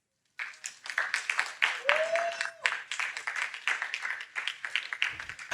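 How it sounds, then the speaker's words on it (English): Audience applause for a guest at a fashion panel during a fashion week event in Lagos: sustained clapping that starts abruptly and runs steadily throughout, fairly close, with no talk over it. "Ladies and gentlemen, a round of applause for Damola."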